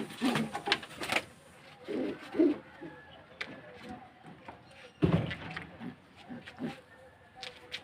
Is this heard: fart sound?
no